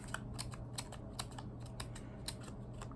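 Scissors snip paper for a collage, giving regularly spaced, quiet, crisp cuts over a soft steady background hum.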